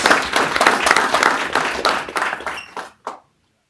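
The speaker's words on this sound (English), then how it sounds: "Please give a big round of applause for your 2023 Junior Varsity Boys Basketball City" Audience applause in a board of education meeting hall honoring a junior varsity boys basketball city championship team, a burst of dense clapping that thins out and stops after about three seconds.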